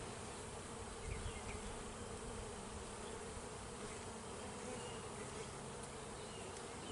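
A colony of honeybees swarms around an open beehive during a spring hive inspection, producing a dense, continuous buzz that stays steady and close throughout, with no voices.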